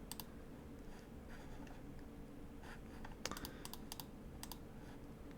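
Computer keyboard keys clicking in quick irregular bursts of typing, faint and close over a steady background hum, with no one talking.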